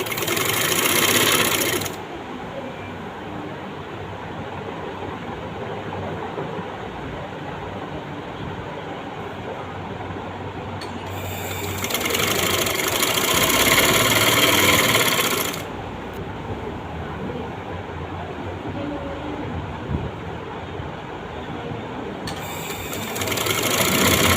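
An electric sewing machine stitches a kameez in bursts, a steady rapid whirring hum running for a couple of seconds, then pausing, then a longer run of several seconds, quiet handling between.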